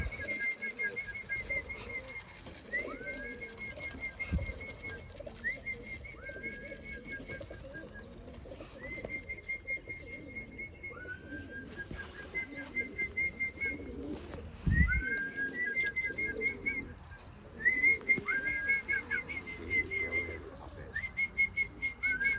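Pigeons being put into an enclosure, cooing repeatedly in soft rising whistles, with occasional bursts of wing flapping close by, fairly faint overall.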